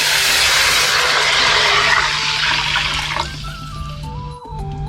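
Water pours steadily with a loud rushing hiss into a pot of fried spices for a red pork sauce, continuing for several seconds before tapering off, with faint kitchen sounds and no talk.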